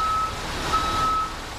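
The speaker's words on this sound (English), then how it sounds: "DPW crews slowly backed a truck down the steep grade, dumping a lot of salt" A DPW truck slowly backs down a steep, icy hill while dumping salt, its backup alarm giving two loud steady beeps over a low engine rumble.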